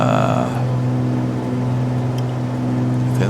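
A steady, loud aircraft engine drone with a strong low hum runs throughout in a flight simulator game, holding constant with a couple of faint clicks and no speech.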